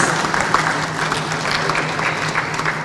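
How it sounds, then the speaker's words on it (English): Audience applause after a government minister's address at a formal event in Ghana, a steady dense clapping from a sizable crowd that holds evenly throughout without a break. "Can we give the Honourable Minister another round of applause, please?"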